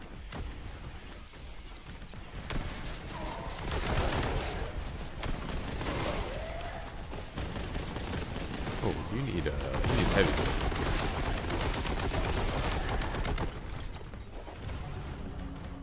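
Gunfire in the video game Boltgun: steady, dense bursts of shooting and mechanical clatter run throughout at moderate level, with a person talking over the action.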